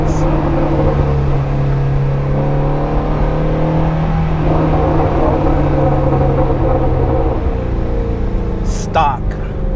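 A Shelby Ford GT350 Mustang on its stock exhaust roars at wide open throttle, the engine note climbing and sweeping loudly from inside the car while someone talks over it.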